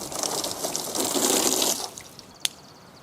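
A garden hose spray nozzle on its rinse setting hisses out a broad, steady spray for about two seconds, then cuts off to faint drips and a single sharp click.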